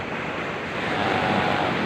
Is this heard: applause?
no